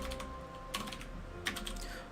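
Computer keyboard keys tapped while typing JavaScript code, a few distinct clicks and short bursts over a steady low hum, close and clear, no voices.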